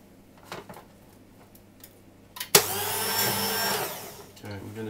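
An electric meat slicer switches on midway with a sharp start and runs in a steady motorized whir while slicing biltong, preceded by faint handling knocks and brief talk.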